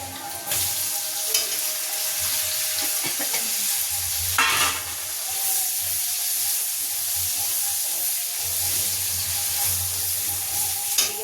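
Loud, steady sizzling of vegetables and chicken frying in a wok, with occasional scraping of stirring and a brief burst of hiss partway through.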